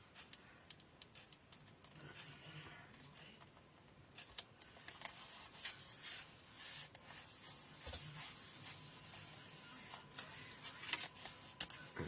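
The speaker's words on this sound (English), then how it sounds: "I think I'll just give that another little burnish" Dry rubbing and scraping as paper is burnished in a card-making craft project, a close, fairly faint swishing that comes in uneven strokes, with no talk.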